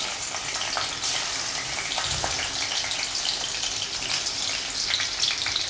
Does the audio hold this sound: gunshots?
no